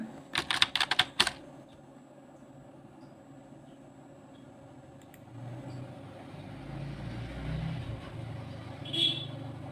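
A village name typed on a computer keyboard: a quick burst of crisp key clicks at the start, then a quiet stretch with a low vehicle-like rumble rising in the background.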